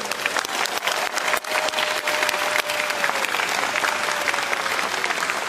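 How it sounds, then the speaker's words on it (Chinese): Large crowd at a presidential inauguration ceremony in Taiwan giving warm, sustained applause, a thick continuous roar of clapping from many hands with occasional sharper claps standing out. "也请大家一起给他们一个最热烈的掌声"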